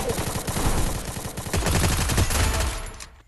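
Rapid bursts of gunfire from the video game Free Fire, dense automatic volleys rattling close and loud across the whole moment with brief dips between strings of shots, no talking over them.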